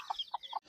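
A hen leading her chicks along a village roadside gives three soft, evenly spaced clucks, faint and close, with quiet between them.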